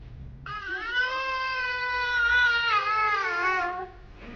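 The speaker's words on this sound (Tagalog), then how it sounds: "Baka may pusa." A cat lets out one long, drawn-out meow, loud and close, rising and wavering for about three seconds before trailing off, over faint background noise.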